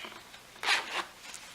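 A quiet, brief zipper pull on a small pouch, one quick rasping stroke in an otherwise still room.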